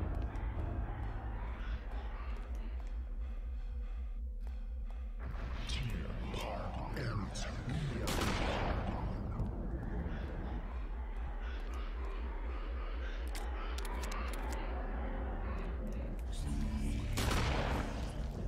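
Rapid bursts of gunfire, in volleys and single cracks, crackle over a constant loud background rumble for the whole stretch, with a few heavier booms and faint voices in between.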